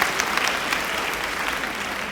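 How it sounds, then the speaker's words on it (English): Steady audience applause from a seated crowd at a live talk event, dense continuous clapping at even loudness throughout, close and full with no voices on top. "Clap it up, clap it up, clap it up,"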